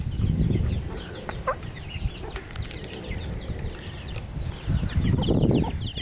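A small flock of chickens pecks at roasted pine nuts, soft clucks and low murmuring calls scattered throughout, close by over faint rustling.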